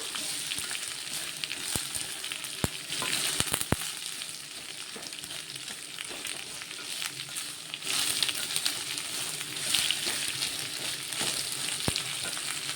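Onions fry in a pan for a fish curry, a constant close sizzle and crackle with occasional sharp clicks of stirring utensils, no talking heard.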